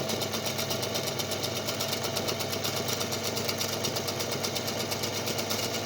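A home sewing machine stitching a regular zipper seam at a standard stitch length runs in a steady, rapid mechanical whir with fast rhythmic needle chatter, continuous and close throughout.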